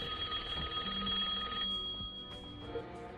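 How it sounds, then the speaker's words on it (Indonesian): An indoor telephone in a bedroom rings in a film scene, its bell tone repeating faintly and steadily at a moderate distance with no talking over it. "tiba-tiba telepon di dalam kamar Eva berbunyi"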